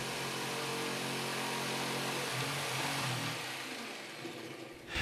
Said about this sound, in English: Cut the opening with a jigsaw and fine-toothed blade.